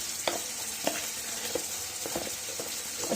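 Spiced egg chop filling of potato with salt, cumin, turmeric and chilli powder sizzles in a pan, with a spatula stirring and scraping at a steady beat, quiet and close with no talking.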